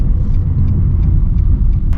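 Cars passing on a village road in Potamos tou Kampou, Cyprus, a loud, steady low rumble of engines and tyres close by for the whole stretch, with no talk.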